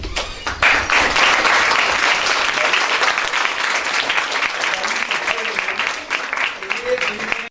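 Audience applause at a home-based school workshop in Sialkot, dense and steady clapping from a crowd throughout, loud and sustained from start to finish.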